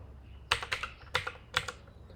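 Quiet computer keyboard typing in short clustered bursts of several keystrokes, entering a database name for an SQL drop command, close and alone without speech.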